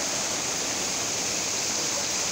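A river rushes beneath a bridge with a strong current, making a loud, unbroken broadband roar of flowing water that stays constant throughout, with no voices.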